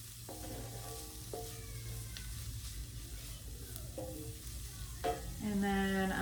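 Garlic and smoked paprika sizzling in a pan for red beans and rice, stirred with a utensil that scrapes in several short strokes, then a louder burst of frying near the end, heard up close without talk.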